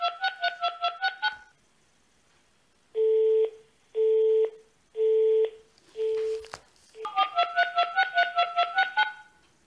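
A telephone dials during a call: a quick run of touch-tone beeps, then four longer evenly spaced tones, then another rapid burst of dialing beeps, all clear and alone without talk.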